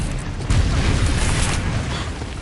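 The Confringo blasting spell in Hogwarts Legacy erupts in a dense, continuous roar of explosive noise, loud and sustained for the whole stretch with no pause.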